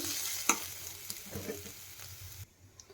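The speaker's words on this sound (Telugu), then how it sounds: "మసాలా మొత్తం వేసుకోవాలి ఇప్పుడు ఇవి కూడా వేగించుకోవాలి ఉల్లిగడ్డ పల్లీలు అవన్నీ వేగినాయండి" Sliced onions and peanuts fry with ground masala in a pan for an egg curry, sizzling steadily up close while a spoon scrapes and stirs, with a sharp clink near the start and the hiss dropping away at the end.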